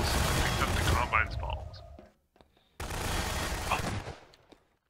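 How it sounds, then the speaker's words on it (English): Gunfire from Garry's Mod comes as a dense hail of rapid shots in two loud bursts separated by a brief lull, with voices talking over it. "I got greeted with a hail of gunfire."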